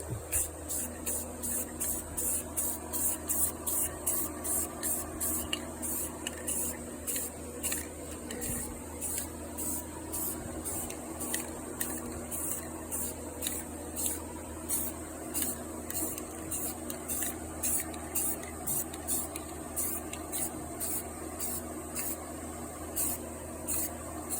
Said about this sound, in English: All right, time for the first coat of gloss black.